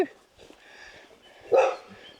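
A dog barks once, fairly close, in a rural town in Gippsland, Victoria, after a stretch of quieter background noise; there is no talking.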